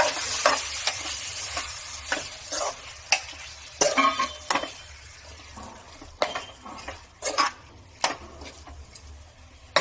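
Chicken pieces stirred in a pan with ginger garlic paste fried light golden brown for chicken curry, steady sizzle under repeated scraping and clattering strokes of a spoon against the pan, close and fairly loud throughout.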